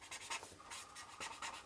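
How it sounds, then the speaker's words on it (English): Hand-written strokes on a Christmas card from an advent countdown kit, a close, quiet scratching of pen on card in short bursts under a faint background hiss. "I'm going to write that down on here"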